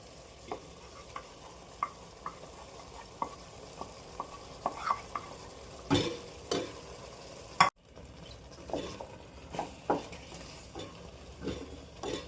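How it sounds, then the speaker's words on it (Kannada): Masala for mutton curry sizzles and fries in a pan while a spoon stirs and scrapes it in repeated short strokes, close and steady with occasional louder clanks against the pot. "ಈಗ ಇದಕ್ಕೆ ಮಸಾಲೆ ಹಾಕ್ತೀನಿ."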